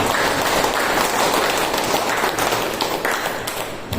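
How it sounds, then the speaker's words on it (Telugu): An audience at a meditation gathering claps loudly to welcome a speaker. The applause is dense and continuous, staying strong before easing slightly toward the end. "చిన్న రాముడు గారికి ముందుగా గట్టి క్లాప్స్ కొట్టి"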